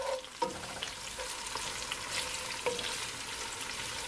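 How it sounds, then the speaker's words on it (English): Scotch bonnet pepper fries in a pot with a steady, soft sizzle while a spoon stirs it, a couple of light knocks against the pot near the start and again midway. "Give it a stir."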